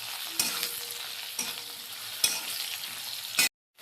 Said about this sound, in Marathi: पुन्हा एका मिनिटासाठी असं तिला परत फ्राय करून घेऊया।